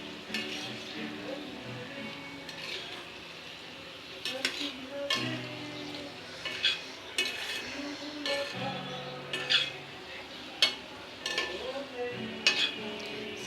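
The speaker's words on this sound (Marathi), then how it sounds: "आता हे जरा आपण परतवून घेऊया छान" Food stirred and sautéed in a pan, with a continuous sizzle of frying under repeated scraping and clinking of a metal spoon against the pan, close and irregular.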